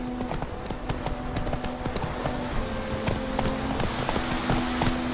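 Roach, a horse in The Witcher 3 game, gallops with rapid, steady hoofbeat clip-clops, close and continuous across a few seconds over faint ambient tones and background noise.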